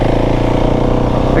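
A motorcycle engine runs loud and close at a steady, throbbing pitch while building speed in second gear for a wheelie, a rider's voice talking over it.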